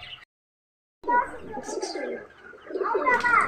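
Pigeons or doves cooing nearby, soft throaty coos in short bursts after a brief silence, with faint chirps mixed in.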